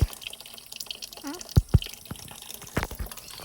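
Water from a tree trickling and dripping near and close, with irregular splashy drops and short gurgles rather than a steady stream.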